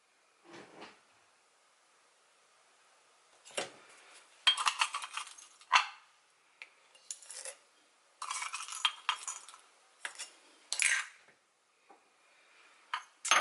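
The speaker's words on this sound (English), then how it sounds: "So now I'm just going to add some cacao nibs as well." Cacao nibs tipped into chia seed pudding during kitchen meal prep: scattered bursts of light crisp clattering and rattling in several short clusters with quiet gaps, close and moderately loud, no voices.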